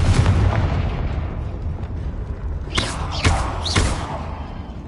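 A Confringo blasting spell in the Hogwarts Legacy video game, played on PS5, bursts in three sharp explosive booms near the end, set over a rumbling game backdrop.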